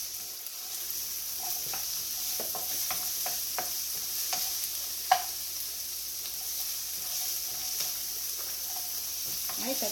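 White onion sautéing in a little oil for stuffed zucchini boats, a continuous close sizzle broken by repeated scraping stirs and clicks from a utensil, one sharper knock midway.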